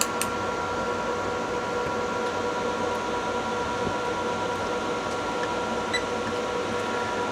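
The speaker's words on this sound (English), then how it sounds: "Let's get those fans working." Steady broadband whir of the cooling fans inside an NEC P502HL-2 DLP laser projector with an overheating phosphor wheel fan fault, running continuously at an even level with a faint hum and no talking.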